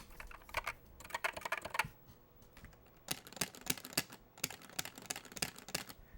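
Keys clack on a keyboard fitted with ABS keycaps and O-ring dampeners, two close bursts of fairly soft, muted strokes with a short pause between them.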